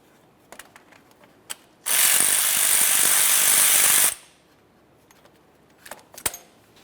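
Rapid ratchet clicking for about two seconds as a 10mm nut is loosened on a 2001-2005 Ford Explorer Sport Trac, close and loud, with faint tool clinks before and after.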